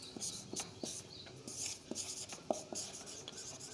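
Pen scratching on paper while a physics teacher writes vector definitions in a lesson, soft repeated strokes and taps in a quick irregular rhythm, close and quiet, with no talking.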